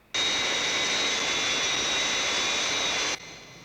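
A large jet airliner's engines roar in a steady, loud, broadband rush that holds for about three seconds before cutting off abruptly, with no voices.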